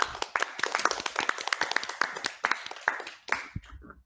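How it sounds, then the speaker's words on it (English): A small audience gives a quick round of applause at the close of a discussion, sparse individual claps from a few people that thin out and stop, followed by a brief low thump. "Just give a quick round of applause."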